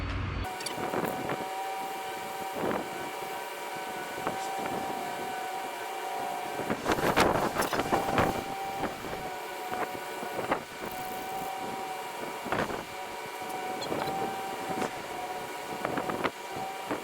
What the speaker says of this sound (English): Dude, it's too windy.